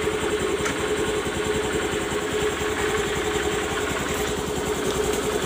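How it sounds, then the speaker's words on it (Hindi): Honda Grazia scooter engine idling after a start, warming up with a steady, even, close putter and constant mechanical vibration, running alone without talk. "थोड़ी देर इसको स्टार्ट रखो ताकि इंजन थोड़ा सा गर्म हो जाए"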